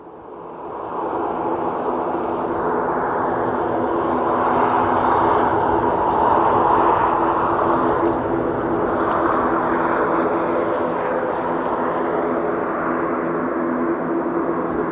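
Loganair airplane descending toward the runway at Aberdeen Airport: a steady, far-off engine roar with a broad hum that holds level throughout and swells slightly midway, with no talk.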